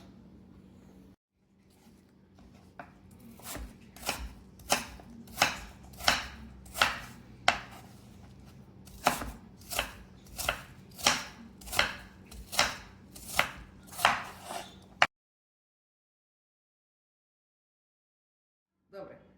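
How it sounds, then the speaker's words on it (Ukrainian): Apples chopped into small squares with a knife on a board, a steady run of about fifteen sharp, evenly spaced chops, close and loud, ending abruptly in silence. "Ми порізали яблучка"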